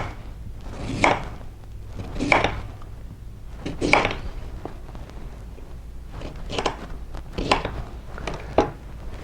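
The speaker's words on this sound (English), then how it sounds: "And then we're going to chop up a beet." A knife chops a beet on a cutting board for a green drink, about seven sharp, evenly spaced thuds with pauses between them, close and clear over a low background hum.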